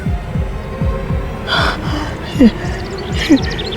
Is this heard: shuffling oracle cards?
no